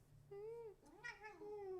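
A pet cat gives a drawn-out meow, then a couple of shorter rising and falling meows, close and clear against a quiet indoor background.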